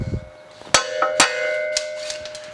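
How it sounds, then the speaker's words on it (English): Metal hammer striking a broken wheel lug nut stud to knock it out of a 2015 Subaru Forester rotor hub, with two sharp ringing metallic blows about half a second apart followed by a lighter tap, close and clear. "take your hammer, have you a nice size hammer, and just knock it out."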